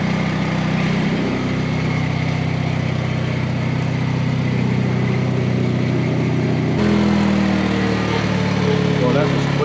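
A Honda HT 3813 lawn mower engine runs steadily nearby, its mid-pitched drone continuous throughout with a slight shift in tone partway through.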